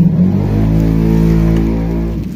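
A motorcycle engine hums steadily and loudly throughout a ride, its low, even drone holding close with no speech over it.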